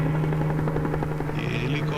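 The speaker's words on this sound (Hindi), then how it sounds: "ये हेलीकॉप्टर, ये लगता है उधर ही जा रहा है।" A helicopter thrums steadily overhead, its rotor chop continuous and fairly close throughout, with a low drone underneath and a brief higher whine near the end.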